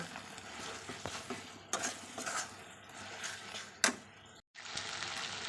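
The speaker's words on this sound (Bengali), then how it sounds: "আগে এটা একটু নেড়ে দিই পোস্তটা" Poppy seed and green chilli paste stirred in a pan, with soft scraping and sizzling under bright clatter of a spoon against metal, a sharp knock near the end and a brief gap before the stirring resumes.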